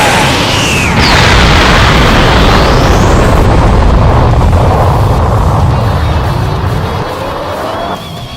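A cartoon energy attack blasts out with a loud, sustained roaring boom and sweeping whooshes that fill the scene, slowly easing in the final seconds.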